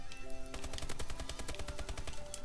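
Rapid automatic gunfire in an online shooter game, a dense burst of loud, evenly spaced shots firing nonstop over a background tone.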